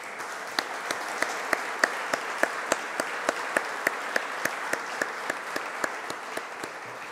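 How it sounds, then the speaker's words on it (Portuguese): A crowd applauds steadily, with a run of evenly spaced, sharper claps giving the applause a rhythmic beat throughout. "Peço uma salva de palmas, se faz favor"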